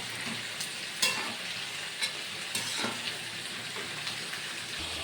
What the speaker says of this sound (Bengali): ভালো করে ভাজা ভাজা করে নিচ্ছি কষাকষি